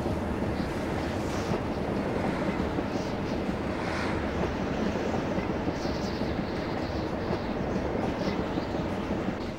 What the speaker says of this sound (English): Make sure nothing knocks me off this train.